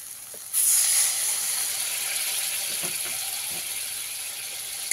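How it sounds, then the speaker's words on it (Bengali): Spice paste with salt and tomato sizzles in a frying pan as a splash of water hits it, a sudden loud hiss starting about half a second in and then holding as a steady bubbling sizzle. "মশলাটা যাতে পুড়ে না যায় তার মধ্যে অল্প একটু জল দিয়ে দিলাম।"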